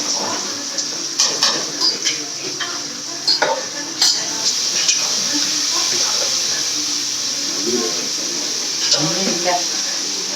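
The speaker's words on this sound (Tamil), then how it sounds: "தக்காளி வெங்காயம் வதங்கிச்சு இப்போ வந்து கறி போட்டுக்கலாம்" Chicken pieces are added to a pan of sautéed tomato and onion for a Sunday chicken kurma, giving a continuous bright sizzle broken by occasional stirring scrapes, while a voice talks intermittently nearby.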